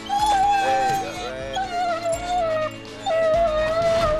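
A Chihuahua in a pool whimpers and whines in high, wavering cries, close and fairly loud, with short yips and varying pitch across repeated bursts.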